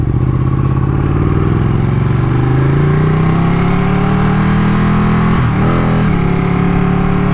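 A Ducati 959 Panigale motorcycle being ridden, its engine droning loudly and steadily with the pitch rising as it pulls away, then a brief dip and recovery during a gear change.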